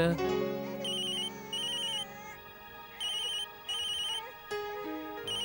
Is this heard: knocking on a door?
no